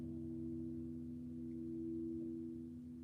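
Sympathetic tones ring on in a guitar after a plucked string is stopped, a faint, steady sustained hum of overlapping pitches that lingers quietly with no voice.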